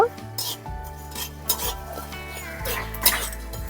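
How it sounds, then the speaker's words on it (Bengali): Coriander seeds, whole cumin and a few peppercorns dry-frying in a pan, stirred with metal clinks and scrapes against the pan over a low crackle, close and fairly quiet. "ধনেটাকে কিছুক্ষণ ভেজে নিয়েছি এখন আমি দিয়ে দিচ্ছি কিছুটা জিরে গোটা জিরে আর কয়েকটা গোলমরিচ"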